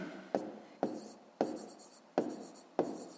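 A pen writes by hand on paper in a maths exercise, five distinct scratchy strokes spaced evenly, each a quick tap followed by a short scrape, close and quiet.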